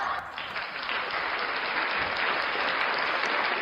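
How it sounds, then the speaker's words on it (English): A live audience claps steadily and fairly loudly throughout, a brief continuous burst of applause with no speech over it. "Round of applause for everybody"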